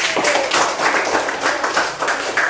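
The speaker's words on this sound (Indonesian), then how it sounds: "Tepuk tangan untuk Wahyudi." Students in a classroom clap for a classmate, a brisk ragged round of many hands applauding nearby with uneven bursts throughout.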